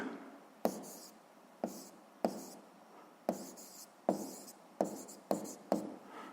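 Pen writing on paper while a physics exercise is worked out, steady scratchy strokes in a regular rhythm, each starting with a light tap, close and quiet with no talk.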